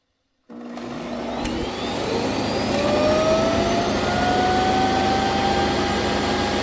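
A Shark AI robot vacuum cleaner starts up after a brief silence, then runs in a loud, steady whir with a rising whine close by, no talking.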